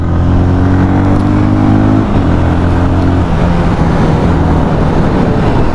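A Bajaj Pulsar 220F motorcycle engine runs loud and close with a steady low drone, its pitch stepping down slightly partway through as the bike rides on.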